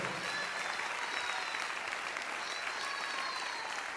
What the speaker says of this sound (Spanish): Dele fuerte ese aplauso al Señor en esta hora.